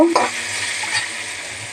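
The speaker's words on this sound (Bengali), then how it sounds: "এই দেখো একটু ডালটাকে ভেজে নেব।" Moong dal fries in a pan with a continuous close sizzle, and a spoon scrapes and stirs at the start before the hiss settles into a steady crackle.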